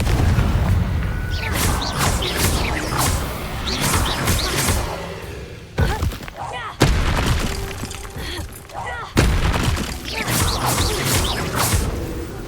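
In the video game Hogwarts Legacy, Confringo blast spells burst repeatedly as loud booming explosions with crackling, shattering debris and whooshes. Several heavy blasts land in quick succession amid ongoing combat noise.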